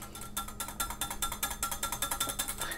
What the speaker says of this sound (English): now I'm really just whisking it a little bit to breathe some life into it